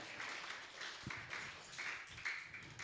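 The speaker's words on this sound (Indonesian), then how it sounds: "Berikan tepuk tangan bagi dia." A congregation applauds at a Sunday worship service, faint and distant, a steady wash of clapping with a few sharper taps rising out of it.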